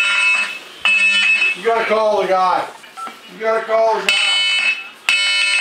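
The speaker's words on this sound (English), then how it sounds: "Oh, the fire alarm's going off." A building fire alarm blares in loud repeated electronic bursts, with keypad beeps as a wrong code is entered and several people talking over it.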